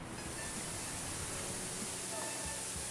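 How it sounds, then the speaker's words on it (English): A huge 18-meter waterfall roars as a dense, steady broadband rush, constant and enveloping, with a voice faintly present beneath it. "A huge 18-meter waterfall, a thrilling and exhilarating sight at the end of their long journey."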